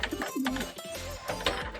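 Racing pigeons in a loft give soft, low throaty coos, a few rolling calls close by over a short stretch with no talking.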